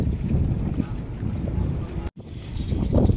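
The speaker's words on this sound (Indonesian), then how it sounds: "di sini anginnya cukup lumayan kencang" Strong wind gusts roar steadily into the microphone at a seaside fishing spot on the Jakarta coast at Muara Baru, loud and buffeting, with a brief dropout midway.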